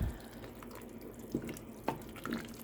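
Liquid is poured into a pot of beef and vegetable soup, producing soft watery splashes and a few small plops, fairly quiet against a low background hum.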